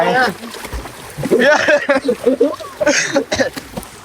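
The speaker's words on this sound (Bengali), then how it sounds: "আমরা এখন সুইমিং পুলে ঢেউ দিব। কিভাবে দিব? নিজেরা আর নিজেদের হাত দিয়ে আমরা ঢেউ দিব।" People splash water by hand in a swimming pool, trying to make waves; intermittent splashing and sloshing sits under loud, continuous talking and excited voices close by.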